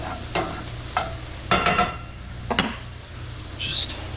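Sweet potato hash fries in a pan, with a soft sizzle underneath while a utensil stirs and scrapes in several distinct strokes, close and clear, no one talking.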